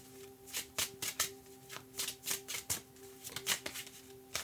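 A deck of cards being shuffled up close during a tarot reading, a series of crisp riffling bursts and soft slaps in an uneven rhythm, with a faint steady hum underneath.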